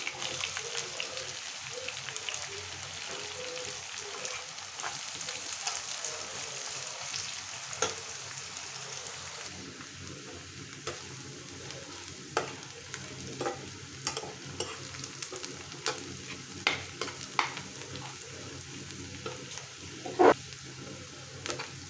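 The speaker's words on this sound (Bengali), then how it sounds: "এখন দিয়ে দিলাম পেঁয়াজ কুচি" Chopped onion and garlic fry in a pan with a soft, steady sizzle, broken by sharp scrapes and clicks from stirring, heard fairly quietly and close.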